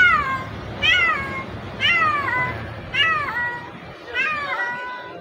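A cat meows four times at even intervals inside a motorcycle parts shop, clear rising-and-falling cries over a faint background hum.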